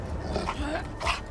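Dog sounds from the Houndmaster killer's hound in a multiplayer horror game, a few short whimpering, growling bursts over game noise.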